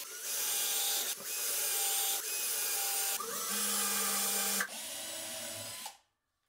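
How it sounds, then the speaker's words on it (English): A power drill bores guide holes into the underside of a wooden workbench top, a loud, high whine running in several long bursts with short pauses, then spinning down to silence. "And I drill the guide holes under the workbench top."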